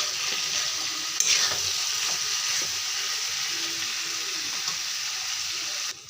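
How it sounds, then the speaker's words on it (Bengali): Meat frying in a pan with potatoes, part of a home-cooked Sunday meat curry; a steady, close hiss of sizzling oil runs throughout with no talking. "এখন মাংসটা ভালো করে ফ্রাই হয়ে যায়।"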